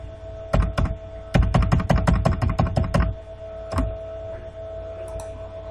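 Rapid bursts of keystrokes on a computer keyboard, a fast flurry, a pause, then a few more taps, close and clear.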